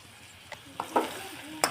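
Spices stirred into an ivy gourd (tindora) curry in a pan, with a few soft scrapes and clinks over a faint sizzle, the loudest strokes near the end.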